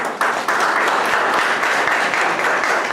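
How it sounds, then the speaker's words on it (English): Loud, close applause from a university lecture audience in Nashik, India, a thick continuous roar of many clapping hands that starts abruptly and stays even throughout, with no talking. "I really want to give another applause for Nikhil"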